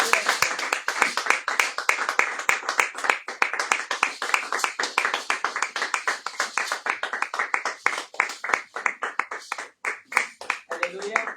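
A church congregation claps steadily in a quick, rhythmic beat that continues throughout, loud and close, with voices calling out and cheering over the clapping.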